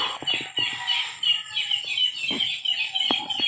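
Several birds call and chirp in repeated bursts outdoors at a duck-hunting spot, answering a played lure call, with occasional louder sharp notes over steady higher chatter and no talk.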